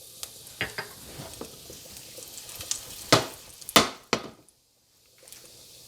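Cumin seeds, fennel seeds and curry leaves hitting hot oil for a tadka, a low steady sizzle broken by sharp pops and crackles, close up, with a quiet gap near the end and no talk.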